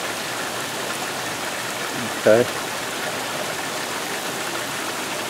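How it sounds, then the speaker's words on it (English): Hard rain pours steadily on a garden with sprouted corn and okra, a dense continuous hiss throughout, loud and close; a person briefly speaks a single word partway through. "I just want to show you how hard it's raining."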